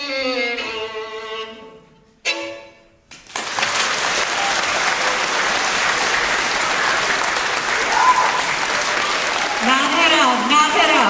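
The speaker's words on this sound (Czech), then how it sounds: "velký aplaus pro pana Pavla Šporcla" Applause at an orchestra concert, with a sustained roar of clapping from the audience after the final notes of the music, then a voice speaking over it near the end.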